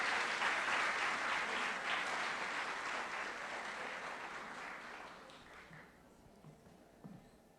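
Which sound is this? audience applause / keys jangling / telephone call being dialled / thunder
audience applause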